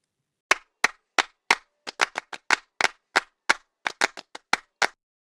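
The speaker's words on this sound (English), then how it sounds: "I did 4 different takes of me clapping in a microphone." Hand claps recorded close into a microphone across several takes, about twenty sharp, dry single claps in a loose, uneven rhythm with silence between them.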